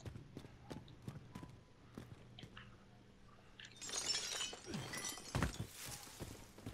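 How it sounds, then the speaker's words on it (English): Glass shatters with a burst of crashing and tinkling debris in a battle royale video game, louder in the second half after a stretch of scattered thuds and footsteps. "Did you guys just break glass?"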